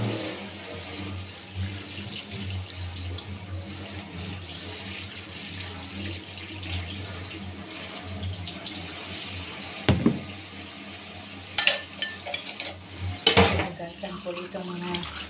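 Used spoons and knives washed under a running tap in a sink, with a steady stream of water and clattering metal utensils growing louder toward the end.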